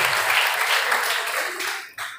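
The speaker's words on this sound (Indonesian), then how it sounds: "tepuk tangan buat Yesus Mega Saputra" An audience at an Islamic boarding school parenting session applauds a student with loud, dense clapping that holds steady and then tails off near the end.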